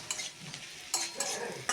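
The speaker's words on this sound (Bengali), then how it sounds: "কি সুন্দরভাবে সর্ষে পোস্তর সঙ্গে আলু বেগুন কষানো" Potato and eggplant cooking in mustard-poppy paste, stirred in a pan with soft sizzling and several sharper scraping strokes of the spatula, fairly quiet and close, with no talking.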